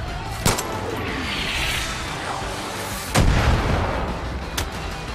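Gunfire in the Far Cry 5 video game: sharp loud shots ring out over a constant dense roar of battle noise, with heavy booms and echoing reports scattered across the few seconds.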